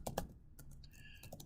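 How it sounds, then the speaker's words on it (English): Rapid keystrokes on a computer keyboard while entering data into an Excel spreadsheet, a burst of close clicks, then a pause, then more scattered taps. "Now I'll type in revenue"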